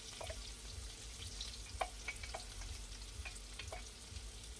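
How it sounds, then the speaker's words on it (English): Onions, garlic and mushrooms sizzle in olive oil in a small pan, a quiet steady crackle with brief sharper pops and a stir or two, heard close up with no talking. "Hopefully you can hear all of that sizzling really nice."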